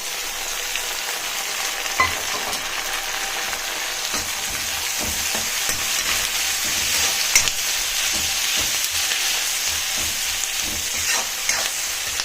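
Onions and tomatoes sautéing in a pan for home-style veg biryani, a steady close sizzle and crackle with occasional stirring scrapes, no talking.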